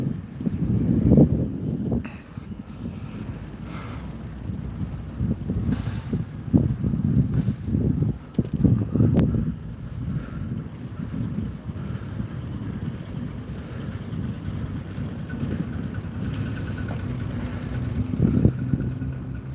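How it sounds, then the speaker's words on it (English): Cold wind buffets the microphone during a midday ride on an old Schwinn bicycle through Las Vegas streets, a steady low rumble with occasional louder gusts and faint mechanical rattles throughout. "now like a cold wind is blowing through"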